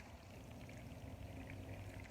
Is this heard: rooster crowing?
no